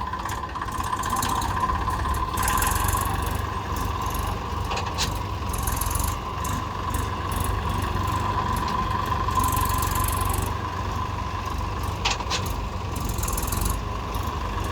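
A Massey Ferguson tractor engine runs close by with a steady mid-pitched drone and low rumble, holding an even level throughout with no talking.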